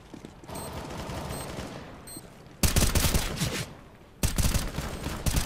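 Gunfire in the video game CS:GO: faint distant shots early on, then two sudden loud close bursts of rapid firing, each ringing on with dense reports.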